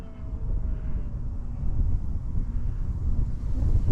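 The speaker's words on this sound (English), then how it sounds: "Wow, the winds are definitely kicking up." Strong, gusty wind blows outdoors at an RC model airplane flying field, buffeting the microphone with a continuous low roaring rumble that swells and surges.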